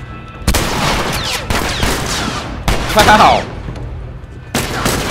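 Gunfire from a shotgun in the video game The Last of Us: several loud, sharp blasts with one round of rapid shots, while someone talks and exclaims between them.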